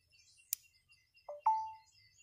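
A mobile phone gives a soft charger-connected notification after being plugged into a waterproof dual-port motorcycle USB charger: a click followed by two quick, short electronic tones, the second held briefly, quiet and otherwise near-silent.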